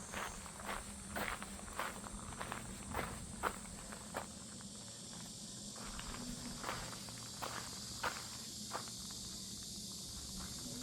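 A steady, shrill drone of cicadas fills the background of a quiet mountain temple while footsteps crunch along at an even pace.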